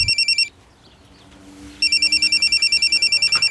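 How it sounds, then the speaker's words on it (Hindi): A telephone rings loudly in rapid electronic trills, cuts off for just over a second of quiet room tone, then resumes its fast repeating ring to the end. "जब मैं लोडिंग कर रहा था तब अचानक बलराम जी का फ़ोन बजा।"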